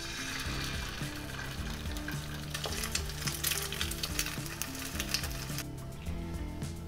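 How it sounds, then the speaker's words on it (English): Two eggs frying in a pan for American fried rice, a continuous crackling sizzle with busy spattering pops throughout, close and steady, no voices. "The next thing to do is to fry up 2 eggs"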